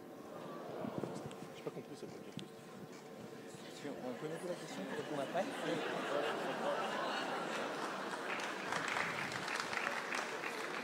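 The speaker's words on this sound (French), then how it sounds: "Ne nous applaudissons pas" A crowd at a French debate claps in a loose, scattered manner that swells into fuller applause, with chatter and a little laughter mixed in, all fairly faint.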